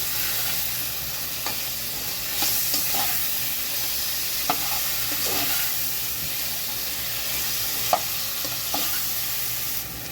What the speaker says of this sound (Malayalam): എന്നിട്ട് നന്നായിട്ട് ഇളക്കുക.